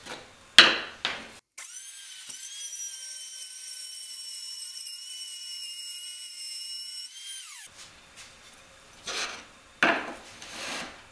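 A power tool plows a track into wood for a miter saw station: a short burst of cutting, then a long high steady whine, then more rough, brief cutting bursts nearby.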